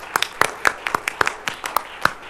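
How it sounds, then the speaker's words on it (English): Audience at a space industry development conference session applauds the speakers and moderator, giving a sparse round of distinct hand claps, roughly a dozen sharp claps spread over a couple of seconds, moderately close. "Maybe we give them another round of applause."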